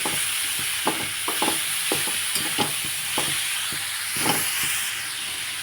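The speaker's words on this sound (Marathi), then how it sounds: "आपली भाजी मिक्स करून घेतली मी कांदे टोमॅटोमध्ये" Kantola (spiny gourd) vegetable being stirred into onions and tomatoes in a pan, with irregular spoon scrapes and clicks over a steady background sizzle and hiss.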